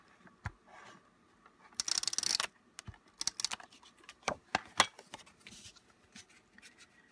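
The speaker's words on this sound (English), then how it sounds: "I'm just going to use the tape runner to attach my card pieces" A tape runner lays adhesive onto card pieces in quick bursts of soft clicking and dry rasping. The strokes are close and faint, with brief irregular pauses between them.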